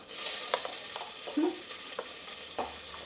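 Oil sizzles steadily with a bright, hissing fry as onion is added after garlic, broken by a few scraping stirs of a spoon in the pan.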